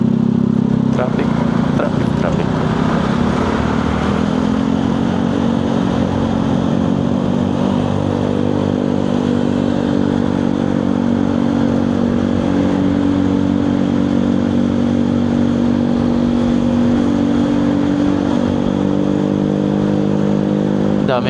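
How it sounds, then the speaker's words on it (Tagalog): Many motorcycles crowd a busy street in traffic, their engines humming and revving in a loud, continuous drone close by, with a speaking voice mixed in. "Daming mga motor ngayon guys."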